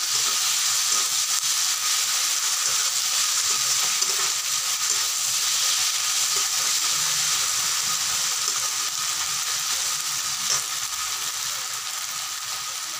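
Sliced onions fry in oil in a pan for Bengali chicken kosha, a steady close sizzle that keeps going for the whole stretch, with a few faint stirring scrapes and no voices.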